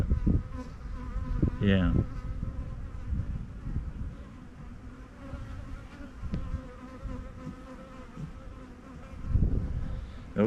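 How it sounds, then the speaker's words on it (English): Angry honeybees in a bee yard buzz loudly all around, some passing close, with swells of humming; someone speaks briefly under the buzz. "Pissy bees don't scare me."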